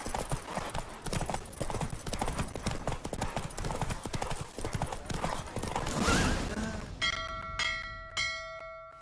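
Galloping horse hooves from Roach racing in The Witcher 3 game, a fast, steady clip-clop rhythm running loud and close throughout, ending with a brief bright chime of bells.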